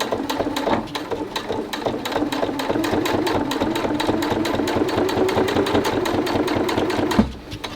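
A sewing machine top stitches through thick cotton drill for a denim-style finish on a fabric face mask, running steadily at close range with rapid even needle strokes for about seven seconds before stopping abruptly.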